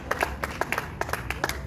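A congregation at a funeral vigil claps in praise of the Lord, a sparse, uneven patter of individual hand claps from a handful of people, moderately close, with no voices over it.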